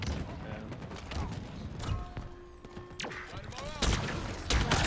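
Gunfire and explosions crackle across a Halo Infinite multiplayer beta match: bursts of rapid shots, mechanical clatter and sharp blasts at moderate distance, with a few heavier bangs near the end.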